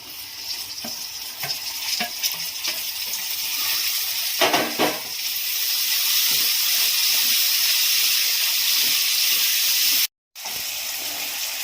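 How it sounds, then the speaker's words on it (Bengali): Onion and capsicum fry in a pan for pineapple pulao, giving a steady close sizzle with occasional stirring scrapes and clinks throughout, and no voices. "এবারে সমস্ত সবজিগুলো মানে সমস্ত ক্যাপসিকামগুলো এর সাথে দিয়ে একটু ভেজে নেব"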